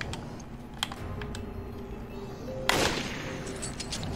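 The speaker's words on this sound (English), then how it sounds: "Now let me shoot you with a sniper rifle." A sniper rifle gunshot in the video game Resident Evil Revelations: one sharp, loud broadband crack partway through, preceded by faint ticking and low game ambience, with no talk.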